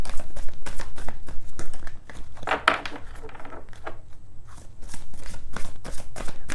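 Rapid crisp riffling of cards, shuffled in several quick bursts with short pauses between, close and fairly loud.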